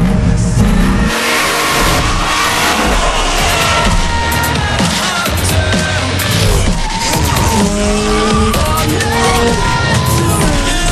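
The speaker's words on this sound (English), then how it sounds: "You're going to throw your car into a slide and try to maintain it." A car drifts in the racing game Need for Speed: Shift 2 Unleashed, its engine revving hard under loud continuous tire squeal that rises and shifts in pitch as the slide is held.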